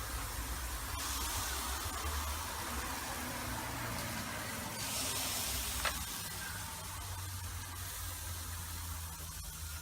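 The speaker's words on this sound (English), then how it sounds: "If you don't hear the sizzle, you're not ready." Bacon and shrimp skewers on a hot charcoal grill give a steady, faint hissing sizzle with a low outdoor rumble underneath, plus a soft click or two.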